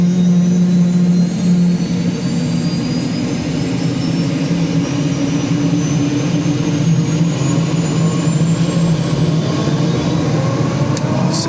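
A helicopter turbine engine spooling up on start, heard close and loud as a steady roar with a rising whine, over Prince William Sound, Alaska.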